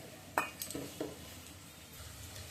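A ladle scrapes and clinks against a metal cooking pot as cooked dal is scooped out, a few sharp knocks followed by softer scraping, close and moderately quiet with no talking.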